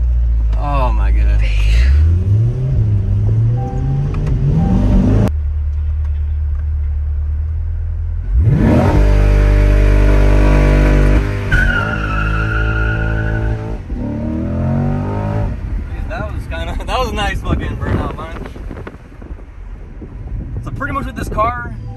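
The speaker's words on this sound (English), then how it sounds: "Did a nice little launch control, a little burnout, but does not want to lock the tires for some reason." Chevrolet C8 Corvette doing a launch-control start and burnout, its engine revving hard and rising in pitch with a brief tire squeal, loud and close, broken up by talking before and after.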